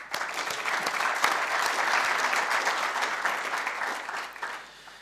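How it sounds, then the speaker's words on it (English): A conference audience at a sustainability session applauds the speakers, a broad, even wash of clapping from a sizeable room that carries steadily before fading toward the close. "we give you a round of applause"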